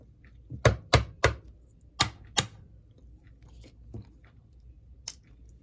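Screws are being worked out of a vintage Penn Line F7 model train, giving a series of sharp, close clicks and knocks in uneven clusters, some loud and some faint, in a quiet room.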